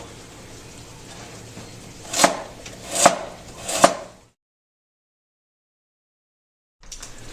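Knife chopping potatoes, carrots and parsnips into small pieces on a board, three distinct sharp chops about a second apart, close up, followed by silence and then faint room noise.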